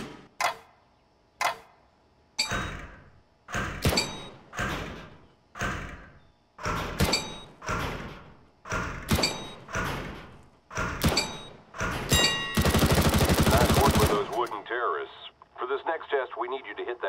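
Repeated gunshots from a CS:GO weapons course as targets are shot: loud, close single shots and short bursts with gaps between, ending in a sustained rapid burst, followed by quieter game noise.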